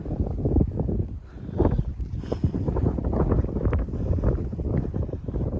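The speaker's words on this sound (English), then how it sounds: "It's pretty windy up here though." Steady, loud wind buffeting the microphone on a high spot along the Appalachian Trail, a constant low roar with gusty surges throughout.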